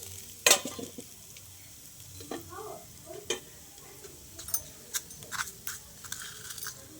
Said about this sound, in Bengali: ওই তেলে একটু কালো জিরে ফোড়ন দিয়ে দিচ্ছি